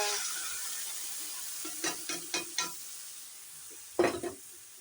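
Potatoes fry in a pan as spices go in, with a soft sizzle under several sharp clinks and scrapes of a spoon stirring against the metal.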